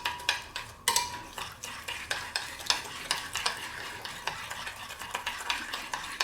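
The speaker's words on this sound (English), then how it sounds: "And then we'll just stir all of this in" A thick sauce stirred through barbecued pork and broccoli in a stir-fry pan, a soft sizzle under rapid rhythmic scraping and clinking of a utensil against the pan, with no talking.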